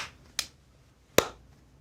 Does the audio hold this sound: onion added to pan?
no